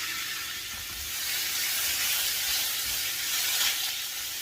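Meat sizzles in hot olive oil in a pan for Philly steak, a steady bright frying hiss that swells slightly and holds on without any talk.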